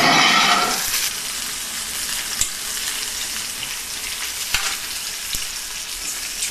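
Peppers roasting in a wood-fired oven give a loud, close, steady sizzle and hiss, with a few sharp pops and crackles scattered through it and no talk.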